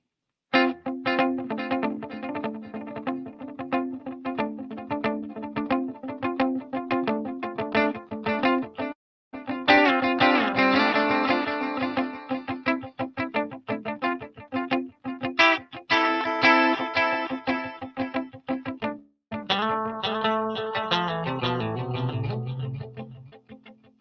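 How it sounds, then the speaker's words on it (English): Electric guitar on a Stratocaster bridge pickup, run through Universal Audio effects pedals with bright, distorted and chorused tones; sustained chords and riffs ring out loud and alone, broken by two brief silences. "I'm going to finally give you guys some more of my bridge pickup on the Strat so you can hear it with some brighter tones there"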